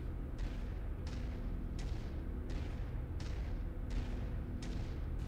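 Artillery in the MechWarrior 5 video game booms again and again at steady intervals of about seven-tenths of a second, each shot a sharp crack with a rumbling tail over a constant low engine drone, and no voices.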